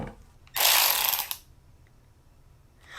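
A Milwaukee M12 cordless ratchet spins in one short, loud, buzzing burst of under a second, followed by near silence and the start of another burst at the end.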